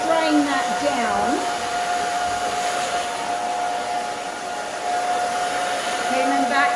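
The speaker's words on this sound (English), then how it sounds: "I'm just drying that down." Hair dryer blowing over a women's bob haircut, a loud continuous whine with a steady tonal hum, close and unbroken, with faint voice-like sounds briefly at the start and end.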